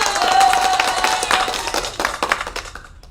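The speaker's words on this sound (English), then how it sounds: "Here's an applause for you." Applause during a live online talk on neuroaffirming therapy, a loud burst of clapping that gradually thins into scattered claps as it fades, with a brief voice at the start.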